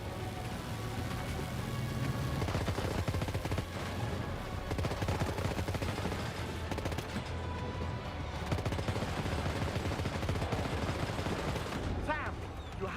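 Gunfire in the Death Stranding 2 video game: a dense, continuous barrage of shots and bursts rolls on for the whole stretch under a busy game soundtrack, with loud, steady intensity.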